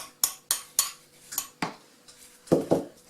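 A utensil clinks sharply against a bowl as egg yolk is stirred into a mixture for Brussels cookies, about eight quick taps in an irregular rhythm, close and clear with no talking.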